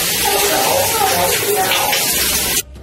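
A running shower hisses loudly and steadily as a broad wash of spraying water, with a voice talking underneath, then cuts off abruptly near the end.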